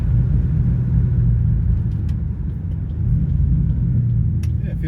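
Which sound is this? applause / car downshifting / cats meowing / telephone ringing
car downshifting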